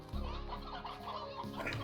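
Hens and roosters cluck in the video game Slime Rancher, a busy continuous clucking chorus over a tonal game soundtrack, moderately loud.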